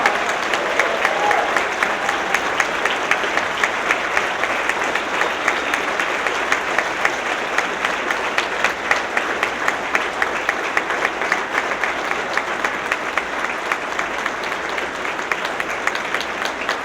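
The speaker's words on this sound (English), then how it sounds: "Give Ambassador Young an Oakland round of applause." Sustained applause from an audience honoring Ambassador Andrew Young in Oakland, a dense steady wash of many hands clapping at an even level for about seventeen seconds with no break.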